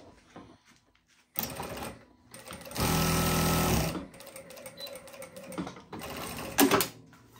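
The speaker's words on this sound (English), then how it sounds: "now I'll show you how to sew in with automatic bar attack." A Jack A6F needle-feed industrial sewing machine runs an automatic bar tack in loud, rapid mechanical bursts, with a sustained rattling stretch in the middle, separated by short pauses and quieter whirring.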